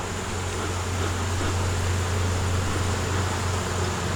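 A hive of honey bees hums in a constant close drone while a beekeeper works the colony, the buzzing steady and even throughout with no voices.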